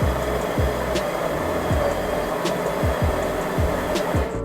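A De'Longhi PrimaDonna Soul coffee machine preparing espresso gives a steady, loud motorised hum, with a faint regular clicking pulse running through it from start to finish and no voices.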